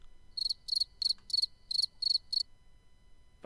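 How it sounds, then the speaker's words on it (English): A cricket chirping sound effect with seven crisp, evenly spaced bursts of shrill chirping against near silence, then the chirping stops. No one speaks. "Fucking crickets, mate."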